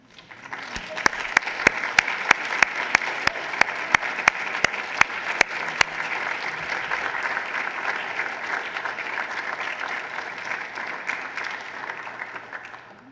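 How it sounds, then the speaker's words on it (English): An audience applauds nurses at a community equity event, steady sustained clapping from a large crowd with a few sharp, close claps standing out near the start. "can you please stand and let us just applaud you?"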